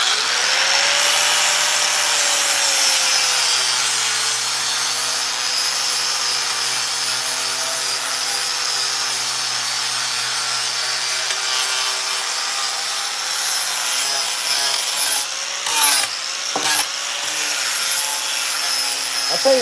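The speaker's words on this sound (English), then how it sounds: "when you get that burn like that, it's because this disc is so gummed up" Sanding disc gummed up and burning as it works on poplar wood, a continuous loud grinding whine with a slowly wavering pitch and a few brief catches near the end.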